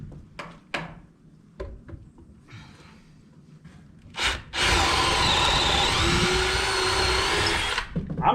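A power drill fitted with an auger bit bores into wood during house rough-in work, running as one loud, steady, continuous whir for several seconds after a few brief clicks and starts.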